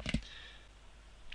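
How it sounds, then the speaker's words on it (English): A few quick keyboard clicks from typing on a computer keyboard while building a Unity 3D game, close and fairly faint, followed by a quiet room. "So we're going to try this by typing"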